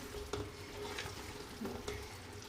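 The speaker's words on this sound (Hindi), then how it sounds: "तो इसको अच्छी तरह भूनते हैं।" Crushed ginger and garlic fry in a pan with soft sizzling, a few light scraping stirs cutting through the faint, steady frying hiss.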